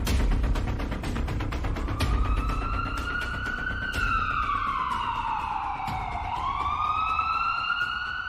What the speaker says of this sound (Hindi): अरे एम्बुलेंस